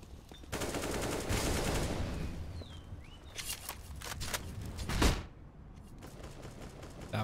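Rapid automatic gunfire rings out in a Counter-Strike match on the Cobblestone map, with dense bursts of shots, sharp single cracks and a loud blast near the end, all without voices.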